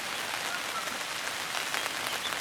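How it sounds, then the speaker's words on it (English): Rain falls on a farm, a faint, even hiss of fine drops pattering on surfaces with no voices over it. "And it is raining, you can probably hear it."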